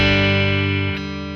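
Sustained guitar chord, a G, ringing out with rich harmonics and a slight change in tone about a second in, heard alone and close during a song lesson.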